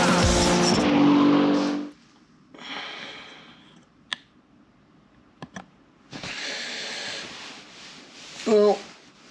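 A Ferrari race car on a track roars past in loud bursts, with engine notes rising and falling, a tire squeal and quieter gaps between passes.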